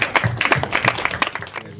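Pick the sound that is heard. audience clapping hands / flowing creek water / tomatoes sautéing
audience clapping hands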